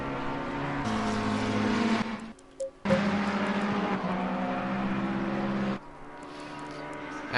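A Ferrari GT race car in a wet-weather racing game at Imola runs steadily down the start-finish straight, its engine droning loud and continuous with a brief drop-out partway through, then resuming at full volume.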